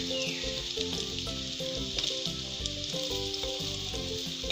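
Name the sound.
onion frying in oil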